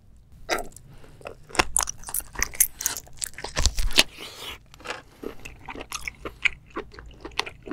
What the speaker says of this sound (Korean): 머리를 한번 씹어볼게요. 머리는 자르지 않고 통째로.